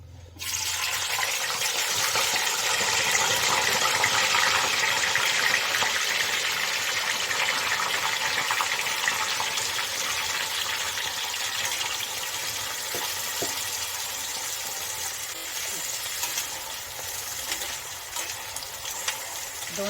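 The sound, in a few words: amla slices frying in hot oil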